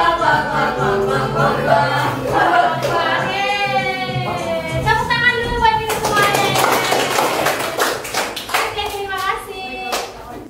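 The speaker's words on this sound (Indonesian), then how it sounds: "Tepuk tangan dulu buat ini semua" A group of children claps hands at a school class presentation. Excited young voices and chatter fill the first half, then quick, scattered claps rise under the voices toward the end.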